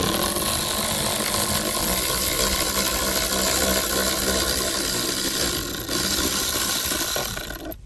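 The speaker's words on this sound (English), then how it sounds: "Removing a T30 Torx screw. Take it out fully." A power tool drives out a long T30 Torx screw from the front left door panel of a Tesla Model 3, a continuous close whirring and ratcheting that runs steadily for about eight seconds before stopping.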